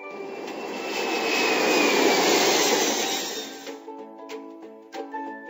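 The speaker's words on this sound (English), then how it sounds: "Airplane." Airplane sound effect in a preschool cartoon jigsaw puzzle game, a loud jet roar that swells and fades over about four seconds, followed by light chiming game music.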